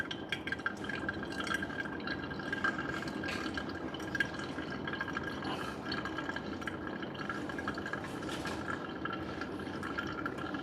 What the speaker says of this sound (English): So now second stage, I'm going to continue to pour.